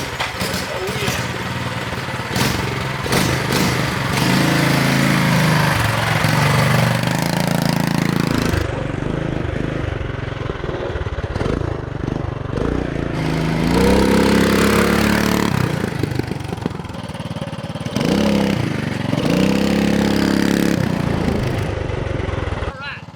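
A Mega Moto 212cc mini bike engine warms up and runs with a loud, close putter that rises into several revving surges and falls back to idle, while people talk over it.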